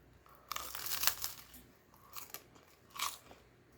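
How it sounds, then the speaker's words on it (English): Crisp bites into a rice cake s'more topped with peanut butter and chocolate chips, three crunchy, crackly bursts close to the mic, spaced about a second apart with light chewing between, no talking. "so let's take a bite"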